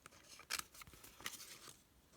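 Paper being cut with scissors to a 10.5 by 14.5 size, a few quiet crisp snips and slicing strokes close by, irregular and alone without talk.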